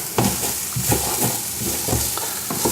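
Chicken being stirred and fried in a single pot of Indian spiced sauce, with a steady close sizzle broken by repeated scraping strokes of the spoon against the pot.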